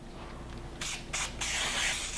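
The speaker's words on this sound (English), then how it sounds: "we're going to spray it with a little butter spray" Butter-flavored cooking spray hisses into a loaf pan in a few short bursts, the first two brief and separated, then a longer sustained spray, close and fairly loud over a quiet kitchen background.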